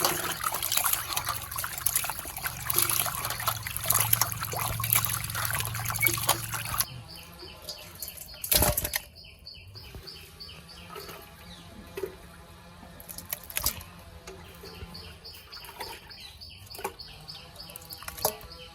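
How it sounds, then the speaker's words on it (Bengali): Fish are rinsed under running water in a Bengali kitchen, a continuous trickle and splash that is fuller at first and then thins to lighter dribbles and handling sounds, with faint birds chirping in the background. "ভালো করে ধুয়ে নেওয়া হচ্ছে মাছগুলো"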